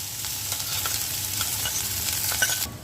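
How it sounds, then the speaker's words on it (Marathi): Onion and a medium potato fry in oil with toasted cumin, a steady close sizzle with soft stirring scrapes and light utensil clicks throughout, ending in a brief louder clatter, with no speech. "कांदा भाजलेला आहे माझा।"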